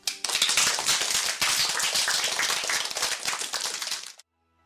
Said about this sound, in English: I want to give yourselves a round of applause